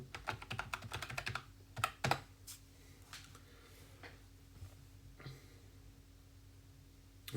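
A password is typed on a computer keyboard: a quick close flurry of key taps, then sparser clicks and a few isolated presses with pauses between.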